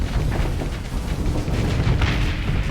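A torpedo explodes in a Starsector space battle, a loud rumbling blast that sustains as dense booming noise with no speech.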